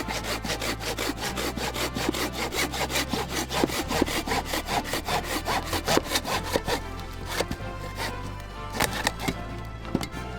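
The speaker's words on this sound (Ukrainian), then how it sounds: "пила впоралася з цією сосновою колодою" A hand saw rasps rapidly and rhythmically through a pine log, quick back-and-forth strokes up close that slow slightly toward the end.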